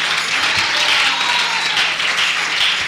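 A Spanish-speaking church congregation gives strong applause to God during a worship service before the sermon. The thick, continuous clapping stays loud and steady throughout.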